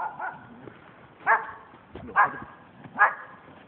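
A small dog out in the snow gives three short, sharp yaps, spaced a little under a second apart, heard close by over a quiet background.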